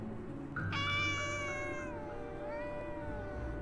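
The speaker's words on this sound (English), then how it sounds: "watch this one meow on command" A cat meows on command, one long drawn-out meow that bends downward in pitch, close by, with faint room noise underneath.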